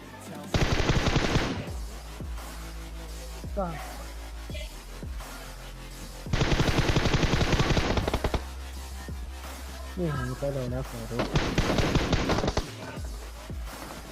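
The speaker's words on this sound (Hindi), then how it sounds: "जब इसने फायर करा तब मैंने भी फायर करा" Rapid automatic gunfire in PUBG Mobile comes in three loud sustained bursts of roughly a second or two each, separated by quieter stretches of in-game background sound.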